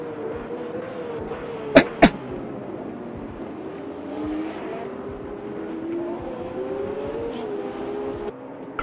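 Race cars in Automobilista 2 battle for position, with one car overtaking an LMP prototype on a straight. Steady engine drone runs throughout, with shifting engine tones and two sharp clicks early on.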